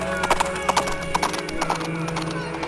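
Horses' hooves clip-clop on streets at a steady walking rhythm, moderately close, beneath someone narrating over a dramatic music score.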